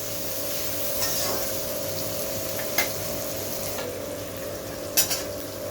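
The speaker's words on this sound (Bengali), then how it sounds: "আলু পেঁয়াজ একসাথে ভেজে নেব।" Potatoes and onions fry together in hot oil with a steady, dense sizzle. A few sharp stirring scrapes cut through it now and then.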